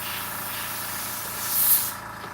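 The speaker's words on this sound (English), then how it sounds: "I put light coats on at a time so it can spray, dry, then I spray it again, dry it." Continuous aerosol spray hissing in light coats onto a model tank, a close, steady rush that swells briefly near the end, with no talking.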